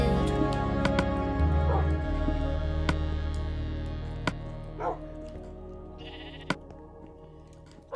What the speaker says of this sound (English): The little dogs are hungry.